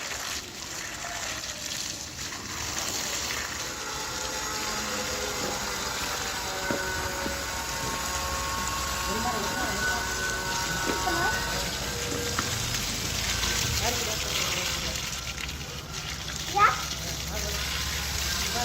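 Water sprays steadily onto a house under construction, a continuous hissing wash with a faint patter that runs throughout at moderate distance, with a brief knock near the end.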